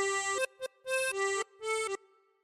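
A tremolo harmonica plays a short nursery-tune phrase from Bingo Was His Name Oh: a few bright, reedy held notes in separate breaths with brief gaps between them, close and alone, the last note fading out.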